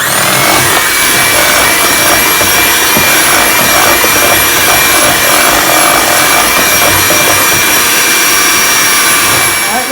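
Electric mixer beating pineapple upside-down cake batter, a loud steady motor whir held at constant pitch for the full ten seconds, close and unbroken.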